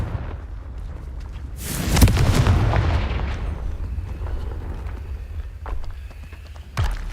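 A Confringo blasting spell goes off in the video game Hogwarts Legacy, a loud fiery explosion that bursts and rumbles for about a second, then decays into a lingering crackling roar, with a smaller thump near the end.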